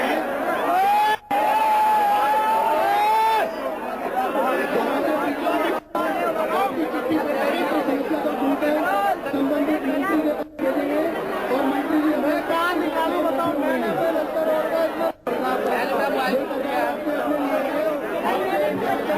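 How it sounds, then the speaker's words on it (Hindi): Dense crowd chatter fills a hall at the Delhi Chief Minister's Janata Darbar public hearing, a steady hubbub of many overlapping voices throughout, with occasional louder calls. "अब सिर्फ और सिर्फ भीड़ यहाँ पर नजर आ रही"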